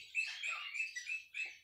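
Wet parrots perched after a bath give a run of short, high chirps and tweets in quick succession, faint and close, with brief gaps between calls and no talking.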